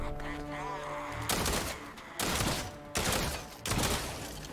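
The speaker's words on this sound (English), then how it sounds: "This shotgun's not bad though." A shotgun in Fortnite Save the World fires four heavy, booming blasts at roughly even intervals, each leaving a long noisy tail that fills the gaps between shots.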